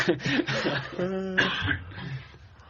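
A few harsh coughs close by, with some throat clearing mixed in, broken by short bursts of voice.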